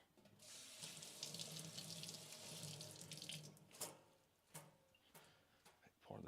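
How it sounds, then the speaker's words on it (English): Distilled water pours steadily into film-developing equipment for a final rinse, a broad rushing flow for about three seconds, then a few sharp clicks and knocks as the pouring stops. "Pour in the distilled water."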